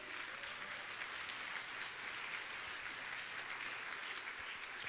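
A church congregation claps together as an offering during a sermon, a dense and steady roar of many hands, sustained evenly and somewhat distant, with no voices over it.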